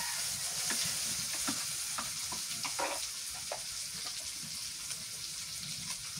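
Garlic paste sizzles and fries in hot oil in a pan for a hilsa fish head dish, a steady broadband crackle with a few sharper pops and brief stirring scrapes, close and continuous with no talk.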